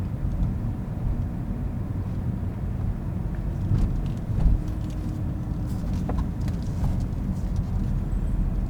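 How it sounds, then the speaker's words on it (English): Manual transmission car pulling away from a stop heard from inside, a steady low engine rumble and road drone with a slight swell midway, no talking. "give it a little bit of gas so we can get rolling here"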